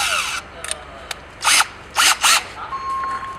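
A hole in a car headlight housing is enlarged for HID wires with a power tool, short sharp bursts of high grinding, three louder spurts among faint clicks, close by.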